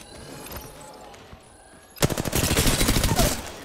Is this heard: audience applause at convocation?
no